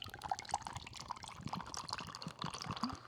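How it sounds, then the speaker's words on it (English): A mocktail poured close to the microphone, with liquid splashing and trickling in a steady stream alongside small clinks and drips, the pour near and clear throughout. "I'm going to pour mine in front of the mic."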